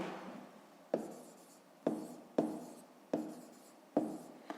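A pen writes by hand during a fifth-grade maths lesson, scratching steadily up close with five sharp taps as strokes begin, alone without talk.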